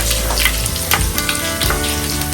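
Chili and bay leaf frying in hot oil in a pan on a rainy day, a loud close sizzle under brisk stirring, with repeated scraping strokes of the spoon and no talking.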